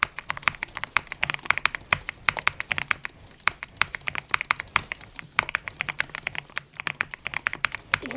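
Fast typing on a creamy custom mechanical keyboard: a dense run of crisp, muffled key clacks, close and loud, with brief pauses between bursts over faint game sounds.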